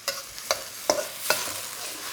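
Sambal thinned with shallot water and fragrant with kaffir lime sizzles in a wok for a spicy Malaysian shrimp dish, with a low frying hiss broken by a few distinct scraping stirs of a utensil against the pan.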